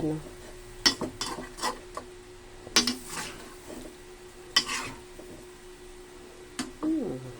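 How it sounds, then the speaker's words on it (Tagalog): Lettuce stirred into chicken liver with broccoli in a pan: intermittent scraping and clinking strokes of a utensil against the pan over a faint steady sizzle, with brief voices in between. "ngayon, halo natin ang lettuce dito"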